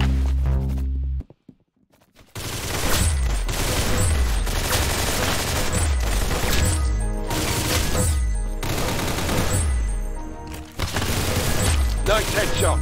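Gunfire during a headshot in the Roblox game Arsenal, repeated loud booming shots in a regular rhythm over game music, after a short silent gap near the start.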